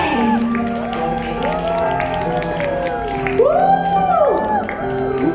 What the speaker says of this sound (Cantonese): 大家可唔可以再次俾熱烈嘅掌聲同歡呼聲